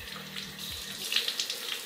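Tap water runs to wet a facial cleansing sponge, a close, steady hiss of flowing water that swells slightly in the second half.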